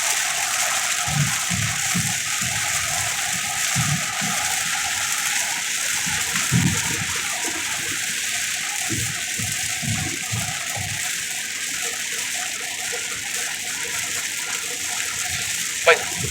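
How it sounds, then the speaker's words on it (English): Rainwater from a Florida summer thunderstorm drains off a truck in a continuous wash of falling water. Low rumbling bursts come and go beneath the steady noise of the water. "Water is leaking off the truck now."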